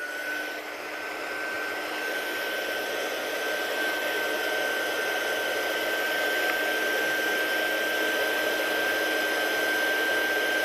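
A heat tool drying ink on a craft project blows with a steady, loud whirring hiss and a thin high whine, running continuously without pause.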